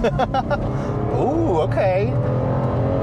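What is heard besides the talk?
2003 Lexus IS 300 engine revving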